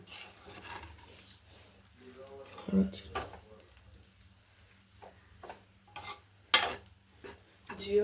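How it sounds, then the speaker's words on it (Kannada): Paneer corn fried rice being stirred and tossed in a pan, with repeated scraping and clinking of a spatula against metal at an uneven rhythm, fairly close, with a louder clatter near the end and a faint background hum. "ಅನ್ನ ಹಾಕಿದ್ದೀನಿ, ಎಲ್ಲ ಮಿಕ್ಸ್ ಅಪ್ ಮಾಡ್ಕೊಳ್ಳೋಣ."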